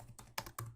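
A few quick, close clicks on a computer keyboard as a Windows key shortcut is pressed, three or four distinct taps within under a second.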